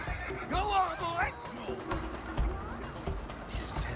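A horse in the video game It Takes Two whinnies in a loud wavering neigh, followed by softer snorts and hoof clip-clops, while players chat over the game audio.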